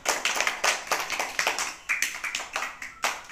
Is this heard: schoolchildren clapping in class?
yes